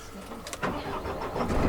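A Mercedes-Benz BiMobil 4x4 expedition truck engine cranks briefly and catches, then settles into a steady, low, close idle with no talking.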